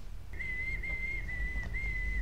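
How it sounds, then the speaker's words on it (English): A person whistles a single steady, sustained tone with brief breaks in a scene from the horror film Hatchet III, clear and fairly loud above a low rumbling background, with no talking. "Your whistling leaves something to be desired."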